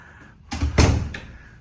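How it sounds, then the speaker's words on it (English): A heavy hotel room door swings open with a dull thud and a rattling latch clack, then a second softer knock, close by in a quiet room. "Oh, the door's very heavy."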